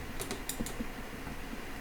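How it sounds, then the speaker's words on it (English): A few computer keyboard keys are pressed, giving a handful of quick, light clicks near the start and then sparse taps, faint over a low room hum, with no voices. "and then number 3 on the keyboard"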